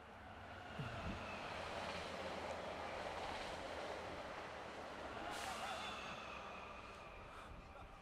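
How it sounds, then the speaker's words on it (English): A train rolls past a football field in a steady, broad rumble that holds for several seconds, with a faint hiss of brakes partway through. "my apologies, I didn't want to compete with the train"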